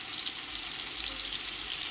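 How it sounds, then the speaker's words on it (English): Venison Salisbury steak patties frying in a cast iron skillet, a steady broadband hiss and sizzle that holds evenly at close range with no talking. "you're going to add your additional patties. And you're going to allow them to"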